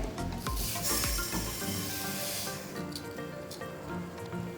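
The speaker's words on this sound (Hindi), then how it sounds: "सॉस पैन में डाल के हल्का सा फ्राई करते हैं" Mustard seeds sizzle and crackle in hot oil in a saucepan over medium-low heat, a steady close frying hiss with faint stirring scrapes throughout.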